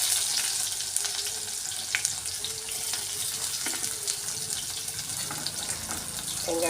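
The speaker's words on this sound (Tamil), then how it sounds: "இப்போ வெங்காயத்தை சேர்க்குறோம்." Onions dropped into hot oil already seasoned with fenugreek and fennel seeds for a fish curry, giving a steady hissing sizzle with small crackles throughout, close and fairly quiet.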